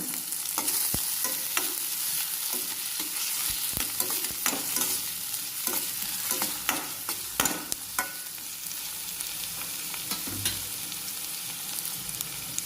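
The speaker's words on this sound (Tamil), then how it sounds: "இது கூட பூண்டு, கருவேப்பிலை போட்டு வதக்கணும்" Garlic, curry leaves and chopped tomato sauté in hot oil in a pan for crab curry, a steady close sizzle broken by the scrape and clatter of a spoon stirring, with no voices.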